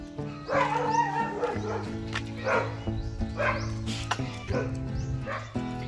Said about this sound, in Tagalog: Dami yung aso dito.